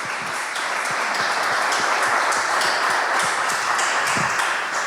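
Applause from an audience at an Akademia Papiamentu research event, a steady wash of many hands clapping close by, with sharp individual claps standing out throughout.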